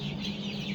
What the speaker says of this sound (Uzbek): Bugungi bir kunlik jo'jalar.